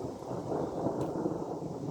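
Thunder from a lightning storm rolls as a low, steady rumble in the open air, broad and moderately loud with no voices.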